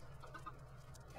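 Chickens in a Minecraft-style video game: a few faint, soft clucks sit over a low, steady background hum, quiet and distant, with no talking.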